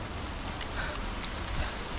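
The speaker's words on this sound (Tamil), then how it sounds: "ஆனால் நல்ல மழை" Steady rain falling outdoors in Ratnapura, Sri Lanka, a dense continuous hiss with faint scattered drops, even in level and unbroken throughout.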